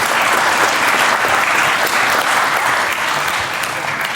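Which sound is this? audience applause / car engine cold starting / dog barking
audience applause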